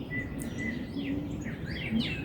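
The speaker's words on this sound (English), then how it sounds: "listening to these birds" Birds chirp outdoors in short, high sweeping calls scattered over a steady low background hum, fairly faint and with no one talking.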